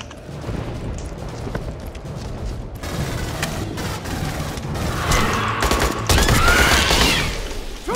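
Sustained gunfire erupts in Aliens: Colonial Marines, with rapid bursts of shots building through the clip and growing louder toward the end over a rumbling combat backdrop.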